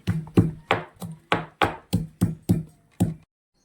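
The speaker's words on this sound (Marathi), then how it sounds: "लसण अद्रक पेस्ट करायची आहे मस्त अशी" Garlic and ginger are pounded into a paste in a home kitchen, with about nine close, heavy thuds at a steady pace roughly three per second, then silence.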